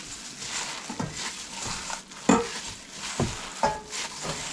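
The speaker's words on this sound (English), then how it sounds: "so I'm going to mix up the meat with my hands" Raw ground meat for Swedish meatballs squished and mixed by hand, giving soft wet squelches and slaps in an uneven rhythm, close and moderately loud.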